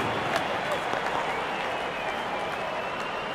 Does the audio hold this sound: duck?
no